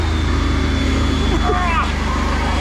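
A Smart car engine drones loudly and steadily close by, with a thin whine on top and a brief rise in pitch partway through, under the noise of a car being driven hard in a drift.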